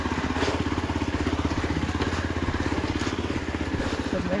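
A motorbike on a rough mountain trail near a waterfall rumbles close by with a steady throbbing engine pulse and a gritty, rattling undertone throughout.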